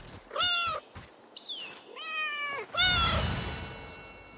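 A pet tiger in the Dysmantle video game meows four times in short, clear, close calls. A rushing noise swells after the last one and fades out.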